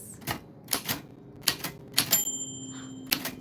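Typewriter keys strike in an irregular burst of sharp clacks, close and clear, with a brief ringing tone near the end and no voices.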